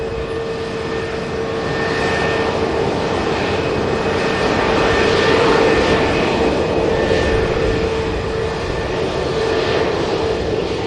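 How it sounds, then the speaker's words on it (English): A KLM Airbus A321neo taxis past at Manchester Airport's runway visitor park. Its jet engines give a loud, steady roar and whine that swells slightly as it passes close by. "Beautiful KLM Airbus A321 Neo. Taxiing past us here at the runway visitor park."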